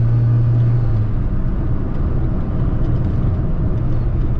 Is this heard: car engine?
yes